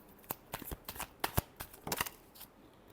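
Tarot cards are shuffled by hand close up, a quick irregular run of soft papery riffles and snaps lasting a few seconds, quiet and without talk.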